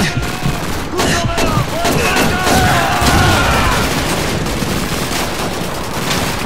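Sustained automatic gunfire from a drum-magazine gun in the video game Call of Duty 2, a dense, loud fusillade of rapid shots with booming impacts running throughout.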